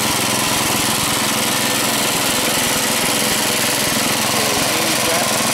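An AMF Huskey two-stage snow thrower engine runs steadily and loudly up close, a continuous rough drone with no pauses, no voices heard over it.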